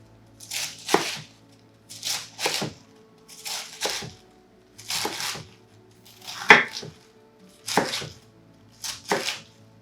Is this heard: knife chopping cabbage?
yes